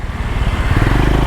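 A Husqvarna Vitpilen 250 motorcycle engine is revved close by, a loud low throbbing drone that climbs in pitch as the throttle opens, with no speech.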